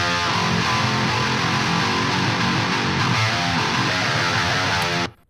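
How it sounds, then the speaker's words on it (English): A metal electric guitar through a neural amp model of a 5150 red channel boosted by an 808 plays a dense, heavily distorted chugging riff, loud and continuous before stopping abruptly. "The first one is a freeware neural amp modeler with 5150 red"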